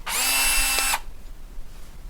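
A handheld power drill runs in reverse for about a second, a loud steady motor whine during body work, then cuts off abruptly into near silence.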